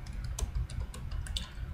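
Fingers typing on a computer keyboard: a quick, irregular string of light clicks over a low background hum, close and fairly quiet, with no speech.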